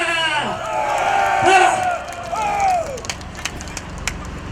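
A crowd of Vietnam War veterans at a rally cheers and shouts, with loud voiced whoops and drawn-out yells swelling and then falling away into scattered claps and murmurs.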